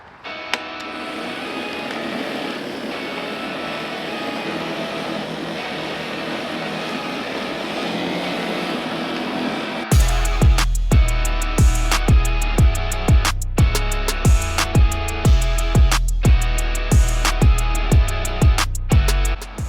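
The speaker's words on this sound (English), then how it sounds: "it's pretty amazing to see how much thatch comes out when you use a dethatching machine like this" A lawn dethatching machine runs with a steady mechanical drone, then switches to a loud, rhythmic pulsing churn with regular repeating thumps in the second half.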